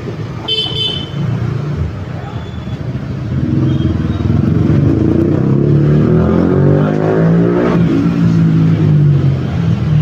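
A motorcycle engine idles and then revs up loudly nearby, the roar climbing and holding, with a short horn-like tone early on.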